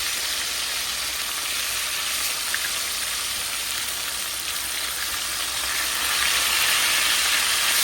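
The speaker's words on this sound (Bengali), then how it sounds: "আমি এখন উল্টিয়ে দিচ্ছি মাছটাকে। এই যে দেখুন, আমি কতটুকু ভেজেছি" Pangas fish fries in hot oil in a pan with a steady, loud sizzle and hiss that swells a little near the end, and no talk is heard.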